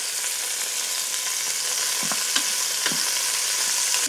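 Short ribs browning in oil in a pot give a continuous bright sizzle, with a few soft clinks and shifts as the meat is moved, and no voices.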